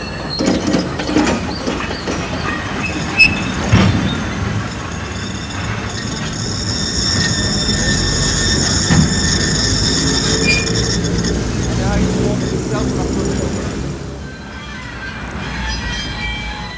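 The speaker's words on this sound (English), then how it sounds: "The train runs up to a buffer stop to reverse" A Westoe Colliery Railway train rumbles along the track in 1988, a steady, loud rolling with wheel squeal and clatter as it runs up toward a buffer stop, easing off near the end.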